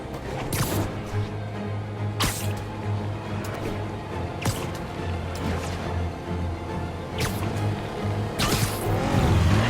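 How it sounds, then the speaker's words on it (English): Car chase in Marvel's Spider-Man game: a steady engine drone runs throughout under repeated sharp impacts and whooshes roughly every two seconds, with tire noise and crashing bursts, loud and close. "Now I just have to stop that car."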